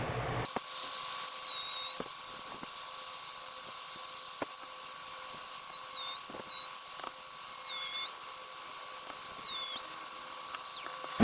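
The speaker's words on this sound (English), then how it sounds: "Now that I've got the rivets all Dremel down" A Dremel grinds down rivets on a vintage Vespa spring gear with a steady high whine that dips in pitch as it bites into the metal, under scattered small clicks.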